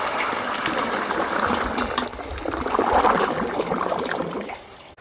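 Grape molasses syrup runs from a washed sack in a steady, close stream of trickling and splashing liquid that swells slightly midway and cuts off at the end.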